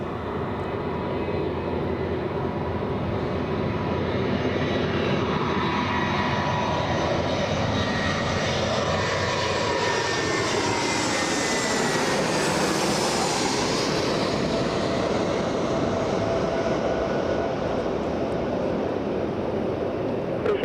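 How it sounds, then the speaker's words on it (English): A Delta airliner arriving from San Francisco lands at Los Angeles International Airport on half-mile final. Its loud jet roar swells and shifts pitch as it passes close by, then trails off. "Now in a half-mile final. Delta 2581 flying in from San Francisco."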